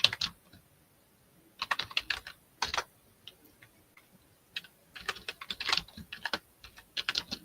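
Typing on a computer keyboard during a live online auction, with irregular bursts of crisp clicking keystrokes separated by short pauses, close and fairly quiet.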